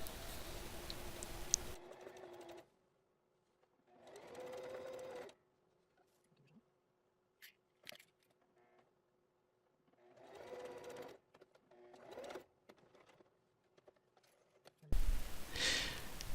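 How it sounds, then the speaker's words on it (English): Sewing machine stitching fabric for a high-visibility dog vest, running in several separate bursts of a few seconds each with quiet pauses between, close and clear with no talking. "I thought it would be best to just speed through the sewing"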